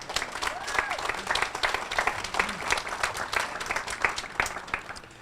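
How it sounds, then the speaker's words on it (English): Audience applause at a Manatee County Veterans Day event: steady, moderately distant clapping from a crowd, sustained without pause across the whole stretch. "I think that deserves a round of applause."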